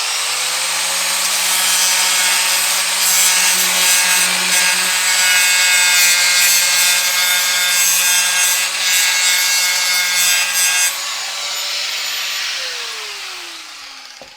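A power sander grinds paint off a Vauxhall Vivaro van panel down to bare metal, a loud, steady abrasive whine that runs continuously and winds down near the end, with no voices.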